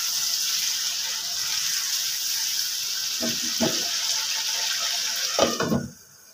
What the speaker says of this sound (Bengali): এরপর আমি পানি অ্যাড করবো মাংসটা সিদ্ধ হওয়ার জন্য।